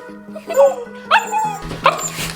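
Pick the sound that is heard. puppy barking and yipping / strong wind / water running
puppy barking and yipping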